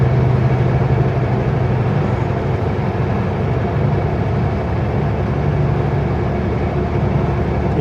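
A heavy truck with a 500-horsepower engine hauling a load of veneer at low speed on a frosty road, giving a steady, loud drone of engine and road noise that holds without a break throughout.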